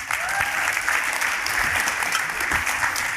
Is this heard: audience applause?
yes